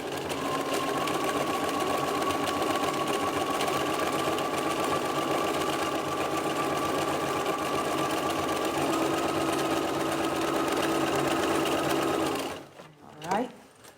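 Sewing machine running a continuous row of stitches along a fabric edge, a loud steady mechanical whir that holds for about twelve seconds before stopping with a brief clunk.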